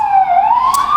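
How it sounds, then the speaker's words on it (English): A loud, close siren wailing with a smooth rising pitch, steady and continuous without pause. "Apologies for the sirens."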